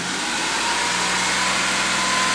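Porsche 911 996 flat-six with stock exhaust, warmed up and held at about 4000 RPM, giving a steady, loud, continuous engine drone throughout with no talk.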